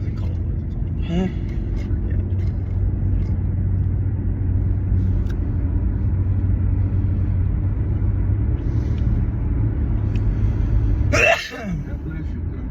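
A person sneezes once, sharp and close, inside a car while riding along, cutting through the steady low engine and road rumble near the end.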